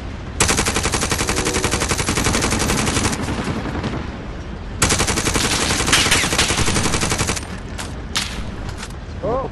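Sustained automatic gunfire in the Call of Duty Warzone video game, two long dense bursts of rapid shots separated by a short lull, loud and close, followed by a few scattered single shots.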